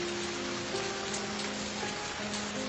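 Heavy rain pours down steadily in a dense, even hiss that fills the whole moment, with faint tonal hums beneath it and no voices.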